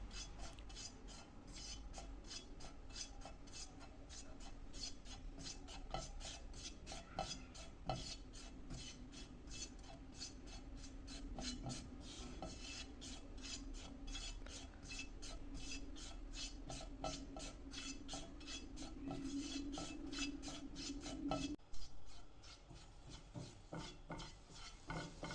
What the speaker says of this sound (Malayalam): ആദ്യം നമുക്ക് ഈ മഞ്ഞൾപ്പൊടി ഒന്ന് റോസ്റ്റ് ചെയ്തെടുക്കാം.